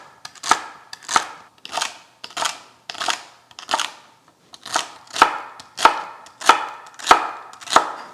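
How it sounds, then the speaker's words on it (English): A knife chops and dices oxtail-braise vegetables on a cutting board in about a dozen crisp, evenly spaced strokes, close and clear with no talking. "And now we're going to nicely dice it up."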